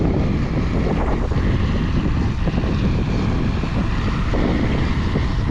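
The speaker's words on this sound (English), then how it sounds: "Up there's the drone" A camera drone buzzes overhead above a cornfield during planting, a steady, continuous propeller whine mixed with wind noise and low rumble, with no talking.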